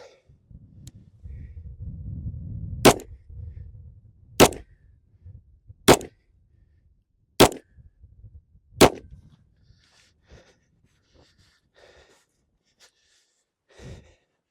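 A TISAS BR9 DS 9mm pistol fires five sharp, loud shots at a steady pace of roughly one every second and a half, with quiet handling sounds and breathing before and after.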